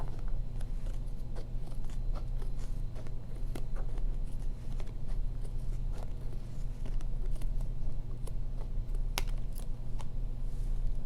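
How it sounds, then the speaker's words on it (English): A small pair of scissors cuts around the outside of a container, making a long run of quick, light snips and scrapes at close range over a constant low hum. "you can see I'm just using a small pair of scissors, and then I'll cut around"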